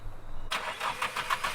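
A turbocharged car engine cranks and catches at about half a second, then idles with a lumpy, pulsing rumble and rhythmic bursts, close and fairly loud.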